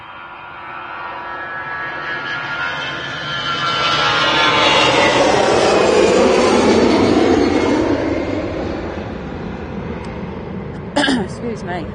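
EasyJet Airbus A320neo jet departing Manchester Airport, a loud roar swelling and fading as it passes nearby, with people talking underneath.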